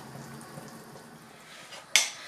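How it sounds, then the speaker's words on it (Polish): A single sharp metallic clack near the end as a lid is set down on a cooking pot of duck gizzard goulash, after a stretch of quiet kitchen background noise. "Także przykrywam, zmniejszam gaz i niech się pomału gotuje."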